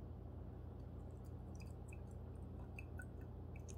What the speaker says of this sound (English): That's coconut water, Joseph.